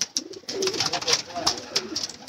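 Rooftop flock of pigeons, some 150 to 200 birds, cooing in low murmuring phrases that overlap steadily, with chirpy bird calls and light background voices around them.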